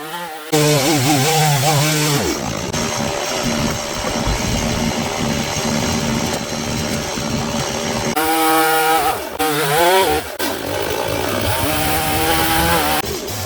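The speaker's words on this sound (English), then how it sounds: "Then the chainsaw changes its role." A loud chainsaw buzzes and revs as it cuts through a log, the pitch rising and dipping with short pauses between cuts.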